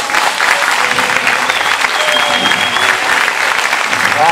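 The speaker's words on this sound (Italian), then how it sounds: "per i caldissimi applausi che sempre ci fanno piacere" Theatre audience applauding warmly after a performance at Teatro Tiglio, a dense, steady wash of many hands clapping close and loud throughout, with faint crowd murmur and whistles mixed in.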